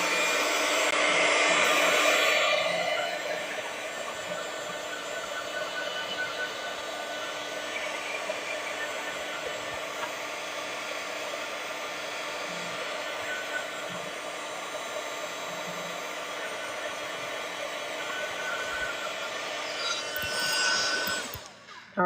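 A hair dryer blows steadily on a watercolor Christmas card painting, a loud constant whooshing hum running for about twenty seconds with slight shifts as it moves, starting and stopping abruptly.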